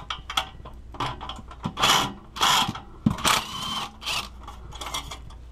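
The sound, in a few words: ratchet loosening car exhaust pipe clamps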